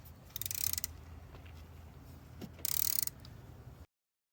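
A ratchet turned counterclockwise to loosen a spark plug gives two short runs of quick, close clicking, separated by a quieter pause.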